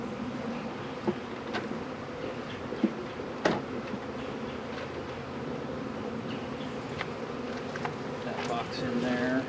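Honeybees buzz around a freshly hived package colony outdoors, a faint continuous drone with a few nearer individual buzzes passing by now and then.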